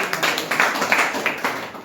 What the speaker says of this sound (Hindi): नितेश के लिए जोरदार ताली।